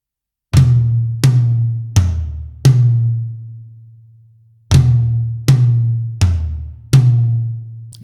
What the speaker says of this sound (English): we are going to replace the Flam tap with a flammed mill